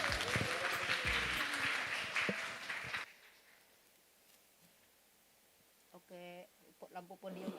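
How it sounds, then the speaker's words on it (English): Dense clapping from a conference audience fills the first few seconds, then fades into quiet room noise and a few faint noises. "And please give a round of applause for Dr. Jun-E Tan."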